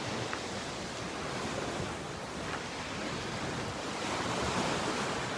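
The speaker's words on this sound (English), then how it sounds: "I love the sound of the water here." Continuous rush of waves washing in, even and fairly close, slightly swelling toward the end, with no talking.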